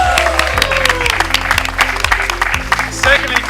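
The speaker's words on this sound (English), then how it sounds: "Can we have a big round of applause for the school?" A round of applause from an MBA audience in Singapore, thanking a school, runs steadily beneath thumping background music, with a voice briefly audible.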